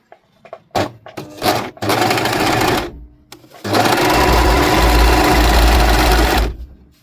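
Serger overlock sewing machine stitching a test seam on a fabric sample, short loud starts and stops followed by a long steady whirring run of several seconds, close up with no talking.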